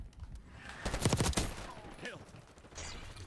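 Call of Duty gunfire rattles in a short rapid burst of automatic shots near the middle, with fainter scattered shots and game sounds around it.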